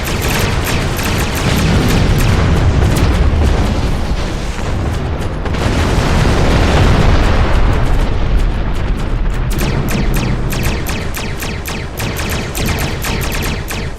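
Starship weapons fire and explosions in Star Trek Online during a fight with decloaking Klingon ships: loud, dense booms and bursts pile into a near-continuous barrage, with rapid sharp volleys of shots in the later part.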